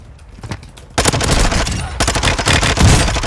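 Rapid automatic gunfire in Warzone 2 starts with faint distant shots, then breaks into loud, close bursts of fast repeated fire that continue with brief pauses.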